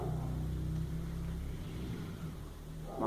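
A motorcycle engine drones past at moderate distance, loud at first and then fading, with a low rumble throughout.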